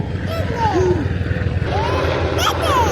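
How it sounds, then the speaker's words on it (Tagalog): A helicopter flies over Fort De Soto beach, its low rotor drone running steadily beneath children and adults chatting nearby. "helicopter"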